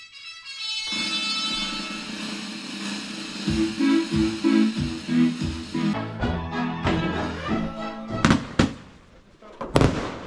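Outdoor fireworks pop and crackle in a rapid irregular series of sharp bursts over a rumbling background, with a few louder bangs near the end while people talk nearby.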